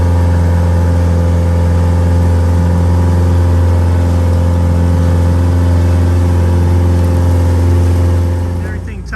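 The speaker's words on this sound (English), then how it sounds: "A little bit easier way to get them up there with the tractor." A tractor engine runs steadily while lifting roof shingles onto a large hip-style boathouse roof, a loud continuous mid-pitched drone holding constant before easing off at the end.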